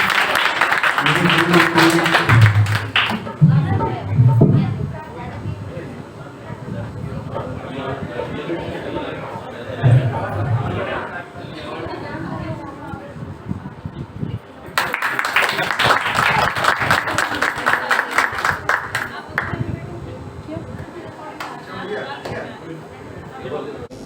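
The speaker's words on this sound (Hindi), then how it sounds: "एक बार फिर आप ताली बजाएं" At the 15th foundation day event of a computer center in Vidisha, an audience claps in two loud bursts of dense applause, separated by a stretch where someone speaks over lighter, scattered clapping.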